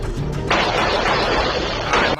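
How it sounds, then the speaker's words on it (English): Violent exchange of gunfire between three young men and a grey SUV, picked up by a doorbell camera outdoors: a dense, continuous crackle of shots and loud bursts running for about two seconds, harsh and distorted. "Doorbell cameras captured the chilling moment when 3 young men encountered a grey SUV, triggering a violent exchange of gunfire."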